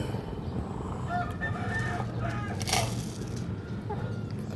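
Chickens on an egg farm cluck and crow close by, a few short calls and a brief crow over a steady low background hum, with faint talk.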